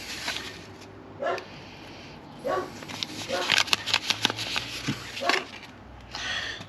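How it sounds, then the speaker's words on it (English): A dog barks several times in the background, short yips and woofs spread across the moment, while a person talks nearby over the outdoor setting of a garden allotment. "Something's upset my dog is barking for some bizarre reason."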